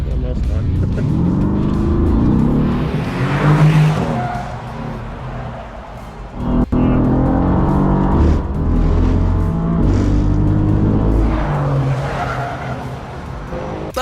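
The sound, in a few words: race car driven fast by Lewis Hamilton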